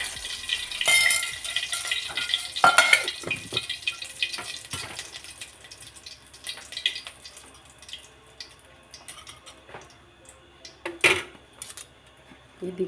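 Cut bitter gourd sizzles in a pan of oil and tamarind juice, with a steady frying hiss broken by spoon scrapes and clinks against the pan, close and fairly loud, with no voice.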